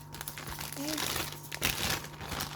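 A plastic zip-lock food bag, used for freezing tomatoes, crinkles and rustles as it is picked up and handled close by, with a voice talking over it.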